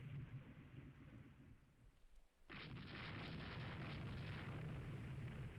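A warship explodes in a naval battle in the Rule the Waves 3 strategy game, a low rumbling roar that drops briefly and then swells into a sustained loud blast with a dense crackling wash.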